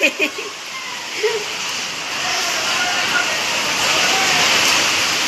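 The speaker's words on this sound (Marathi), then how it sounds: "किती छान पाऊस चालू आहे" Continuous monsoon rain in Nashik pouring and splashing, steady and fairly loud, with a few brief voices near the start.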